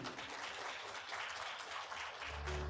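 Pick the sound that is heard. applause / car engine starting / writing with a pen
applause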